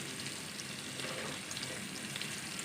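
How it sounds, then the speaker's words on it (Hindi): Soaked chana dal tipped into masala frying in a pan for a Punjabi-style lauki sabzi, producing a dense, even hiss of sizzling oil that holds steady without a break. "अब हम इसमें चने की दाल डालेंगे।"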